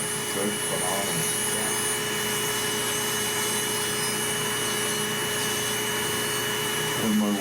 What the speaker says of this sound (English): This has a vacuum in the handpiece